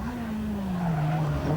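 A Citroën Saxo 1600 cc two-wheel-drive rally car at the 1998 Ypres Rally, its engine holding a steady, slowly falling drone over gravelly road noise, with a faint whine of possible tire scrub.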